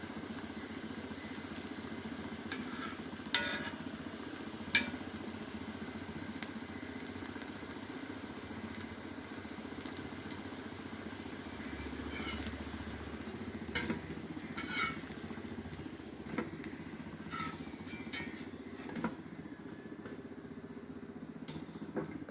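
Raw banana slices fry on a pan, a soft, low hiss with occasional faint scrapes and light taps, quiet and alone throughout.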